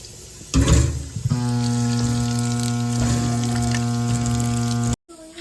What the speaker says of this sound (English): First we're going to peel and wash all our vegetables thoroughly.